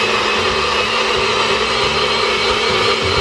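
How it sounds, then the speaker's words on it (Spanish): An electric blender whirs loud and steady for the whole stretch, blending oat and almond flour pancake batter, with no voices over it. "ya está todo listo y vamos a licuar"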